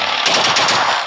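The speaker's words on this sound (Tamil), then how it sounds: "ஒரு அக்கா சுட்டுக்கிட்டு இருக்கிட்டாங்க" Rapid automatic gunfire from the PUBG video game erupts as a loud, continuous burst of shots lasting about a second.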